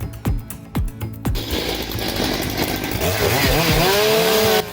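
A big chainsaw cuts into a tree for stump removal, a few sharp revving bursts first, then a loud continuous buzzing whine that rises and shifts in pitch as the blade bites.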